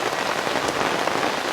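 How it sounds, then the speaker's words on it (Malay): Steady evening rain falls at Rock Lemon Campsite, pattering densely and evenly on nearby surfaces and a hammock shelter, close and constant, with no talking. "Malam kedua hujan turun"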